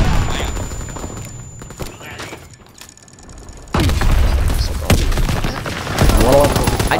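Light machine gun bursts in Call of Duty: WWII ground war combat, loud rapid rattling fire with mechanical clatter and booms, dipping briefly before heavy firing resumes up close.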